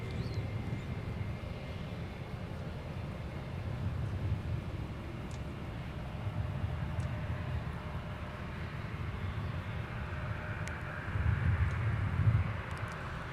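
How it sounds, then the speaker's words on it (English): An American Airlines A320 taxiing at MSP airport gives a steady low engine rumble from a distance, swelling slightly near the end, with no talk over it. "American A320 taxiing Alpha, headed 230 left"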